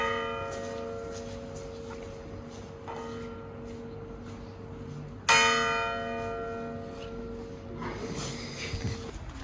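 A church bell rings in Vilnius, its long resonant tones sustaining and overlapping, with a fresh loud strike midway and more clangs near the end over faint street ambience.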